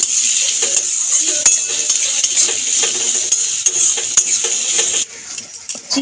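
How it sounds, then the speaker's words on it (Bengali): Chopped onions fry in oil in a pan, a constant bright sizzle close to the listener, with frequent scraping and clinking taps as a utensil stirs them. "কুচানো পেঁয়াজগুলো ভেজে নেব তেলে দিয়ে। নেড়ে চেড়ে লাল লাল করে ভেজে নেব।"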